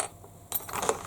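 A small metal washer is set down on fabric for a sewing project, giving one short, quiet clink with a faint scrape.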